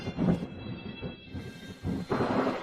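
Deep rumbling thunder from a storm, rolling in two swells with a brief lull between, loud and close with no voices.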